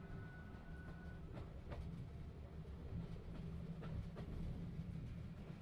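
A train running in the video game The Room Three: a steady low rumble with faint rhythmic clacks and a brief tonal whine, continuous throughout without speech.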